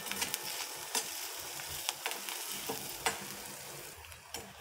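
Chopped onion with turmeric being stirred and sautéed in a pan, a soft, quiet sizzle punctuated by sharp spoon scrapes and clinks at irregular intervals.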